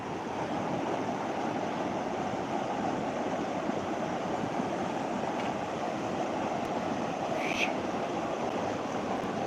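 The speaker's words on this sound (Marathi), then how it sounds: "ते पहा पाणी कसं चाललंय" Floodwater after cloudburst-like rain rushes past in a steady, dense roar, close and unbroken, with a brief voice faintly heard near the end.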